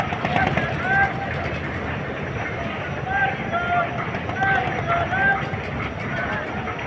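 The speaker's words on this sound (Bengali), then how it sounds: "লঞ্চ দেখুন কীভাবে ঘোরানো হচ্ছে" River launch turning at the Chawkbazar ferry ghat in Dhaka: a steady broadband engine and water rumble with a rising and falling whistle-like tone, under a crowd of voices talking nearby.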